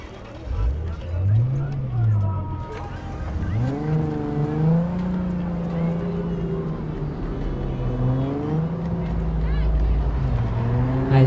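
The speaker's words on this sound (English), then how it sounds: "I'll drive around the city." A car driving through the city in Cyberpunk 2077, its engine revving and shifting pitch up and down as it accelerates, loud and continuous throughout.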